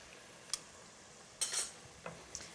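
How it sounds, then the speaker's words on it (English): A spoon stirs salt into marinated lamb for a madras curry, giving a few soft scraping clinks against the pot, three brief metallic touches spread apart over a quiet background. "I'm going to give that a little stir"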